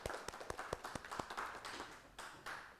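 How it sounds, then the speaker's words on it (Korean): Scattered clapping from a small audience at a Korean church talk, sharp distinct hand claps that begin sparse and uneven and then thicken into a light round, fairly quiet and with no talk over it. "박수."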